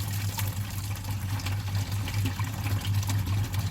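Coolant pours steadily out of a Ford Excursion radiator, a continuous splashing flow with a low hum underneath.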